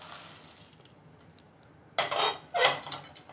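Roasted chickpeas and cowpeas are scraped out of a pan in two quick metallic clatters after a quiet stretch.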